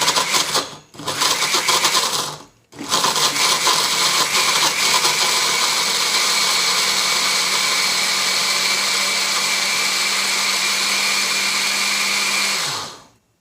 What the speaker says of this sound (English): I'm going to stick my lid on, and then I'm just going to pulse it.